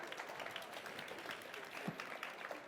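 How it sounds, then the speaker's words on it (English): Audience applause breaking out at a talk by the College HUNKS founders, a dense steady patter of many hands clapping throughout the short stretch. "Give her a round of applause."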